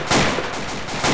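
Burst of automatic gunfire from a medium machine gun in the video game Arma, loud and dense, with rapid overlapping reports filling the short moment.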